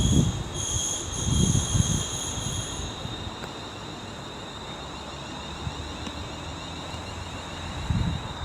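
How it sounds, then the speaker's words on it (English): A Class 350 electric multiple unit, 350-257, pulls into Rugeley Trent Valley station on the West Coast Main Line, terminating from Birmingham International; steady rumble with high tonal whine and brief wheel squeal early, low thumps at start and end. "350-257 approaching, well, arriving, not the same thing, from Birmingham International, terminating here."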